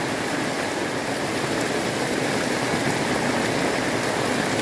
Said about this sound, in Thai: แล้วตอนนี้เขาฝนตกหนักลงมาเ ลยนะครับ